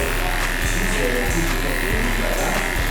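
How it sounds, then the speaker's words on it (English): A hair clipper buzzes steadily up close while raking through hair in a mid bald fade, the constant drone broken by faint rhythmic strokes about every half second. "Holding the clipper, almost like you would hold a liner."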